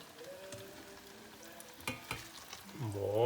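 Risotto rice sizzling and drying out in a hot pan during a mushroom risotto, a steady close fry with stirring scrapes, building louder toward the end.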